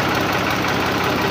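A 2013-model tractor engine idles steadily with a low, even rumble and slight knocking vibration, close and continuous with no talk.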